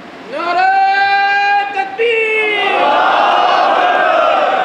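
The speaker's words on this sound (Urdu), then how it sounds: "جب نعرے لگائیں نا تو زندہ دلی کا ثبوت دیں تاکہ پتہ چلے کہ یہاں زندہ لوگ بیٹھے ہیں" A seated Friday-sermon gathering chants religious slogans in unison, two loud sustained collective shouts from many voices, close and powerful, the second blending into a broader roar.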